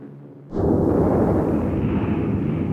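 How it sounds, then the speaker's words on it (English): The atomic bomb explosion over Hiroshima: a deep, rumbling blast bursts in suddenly after a brief quiet moment, then roars on as a sustained low boom. "An explosion in the sky over Hiroshima."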